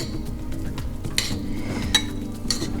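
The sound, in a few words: stirring tofu with teriyaki sauce in a bowl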